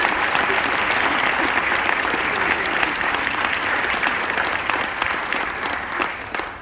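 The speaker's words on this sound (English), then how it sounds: "Give yourselves a round of applause" Audience applause fills a school indoor marching band concert hall, a dense, steady clatter of many hands clapping continuously and loudly throughout, with faint crowd murmur beneath.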